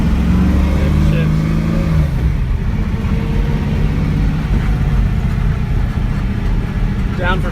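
A Nissan S13 fitted with a 1UZ V8 engine on its first test drive, a loud, close engine roar with rising revs early on that gives way to a dense, rough drone and road noise.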